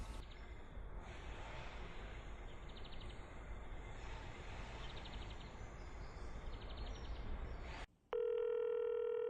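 A telephone in The Sims 3 plays soft electronic dialing beeps over a constant low background hum, then switches abruptly to a loud steady ringback tone near the end.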